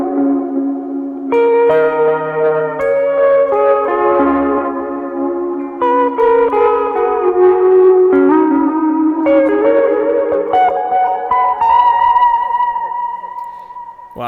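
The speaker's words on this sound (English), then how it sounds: "Here's the GENLOSS, reverb, and dotted eighth delay." A guitar played through GenerationLoss, reverb and dotted eighth delay effects, with sustained, washy, echoing notes and chords that ring on continuously for about fourteen seconds.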